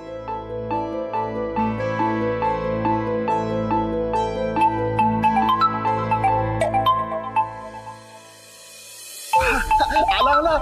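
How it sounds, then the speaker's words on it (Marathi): A phone rings with a melodic, tonal ringtone that plays steadily for several seconds, dips briefly, then gives way to a sudden burst of louder noise near the end. "आला राघवचा फोन आला."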